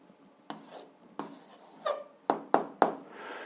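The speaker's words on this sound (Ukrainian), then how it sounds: "Записуємо відповідь, пишемо відповідь." Pen strokes on paper write out an algebra answer by hand: several distinct short scratches and taps spaced irregularly, close and fairly quiet, becoming quicker toward the end.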